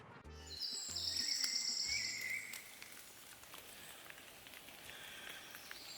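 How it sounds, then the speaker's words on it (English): Steady soft patter of rain with clear bird song and chirps rising above it early on, then fainter calls further off as the rain continues, no talk. "It's so fun to hear the birds sing."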